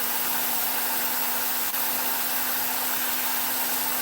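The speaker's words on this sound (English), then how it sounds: "If you've never tried dremel carving, it is a blast." A Dremel rotary tool spins a burr against wood during wood-spirit carving, giving a steady, unbroken high whir at close range that stays even throughout, with no talk.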